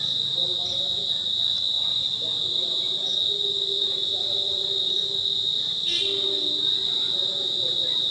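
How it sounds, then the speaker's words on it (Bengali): Crickets chirp in a steady, high, unbroken drone beside an old Shiva temple in Ula, Birnagar, Nadia, with faint other insect or frog calls and distant low sounds beneath. "শুনতেই পাচ্ছেন ঝিঝি পোকা ডাকছে"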